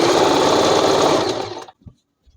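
A sewing machine runs a fast, steady stitch through petticoat fabric for about a second and a half, then stops abruptly, leaving a couple of faint clicks.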